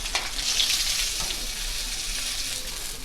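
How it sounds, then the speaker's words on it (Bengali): Small puti fish fry in hot oil in a pan, giving a continuous loud crackling sizzle with no voices. "সব মাছগুলোকে আমি এইভাবেই ভেজে নেব"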